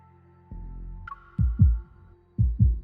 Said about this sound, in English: Suddenly, I hear a strong heartbeat